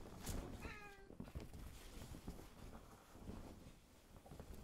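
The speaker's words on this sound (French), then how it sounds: "Ce n'est qu'un chat." A domestic cat gives a single short meow early on, close by, over a steady noisy background with faint scattered clicks and no talking.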